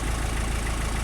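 A Land Rover Rapid Transit Backhoe engine runs steadily with the PTO engaged and a governor holding it near 1800 RPM, giving a close, even, low rumbling idle with a regular knocking pulse.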